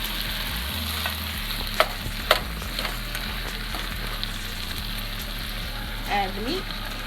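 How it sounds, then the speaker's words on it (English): Turkey meat sizzles and fries in a pot as it is stirred and scraped, a steady close crackle with a few sharp clinks of the utensil and a low hum underneath. "Mix it all in there."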